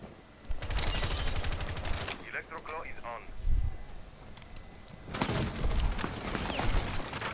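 Bursts of rapid gunfire from a Rainbow Six Siege esports match on the Consulate map, two dense volleys separated by a short lull, heard beneath a caster's running commentary.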